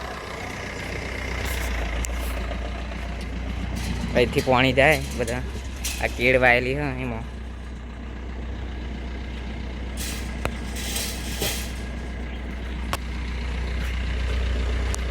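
A car drives along a farm road with a steady low engine rumble throughout, while a person talks over it in the middle.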